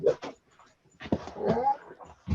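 Two dogs in the cramped space of a camper whimper and whine close by, with short nasal cries, yips and breathy sounds in uneven bursts.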